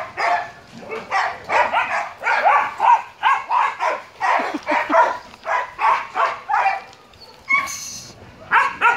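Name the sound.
chihuahua barking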